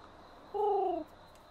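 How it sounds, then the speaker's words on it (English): A single soft pigeon coo from the video game Fire Emblem Engage, a short two-toned call of about half a second over a quiet background hum. "Oh, it's a pigeon."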